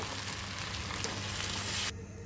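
Broth is poured into fried, spiced mutton curry with papaya cooked village style, giving a loud, steady sizzle and hiss that cuts off sharply near the end.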